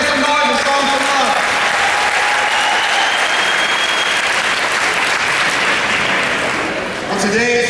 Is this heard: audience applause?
yes